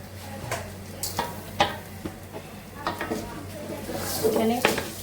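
Rice frying with spices in a cooking pot, stirred with a spoon that scrapes and clinks against the metal in uneven bursts, a soft sizzle running underneath and a voice speaking over it.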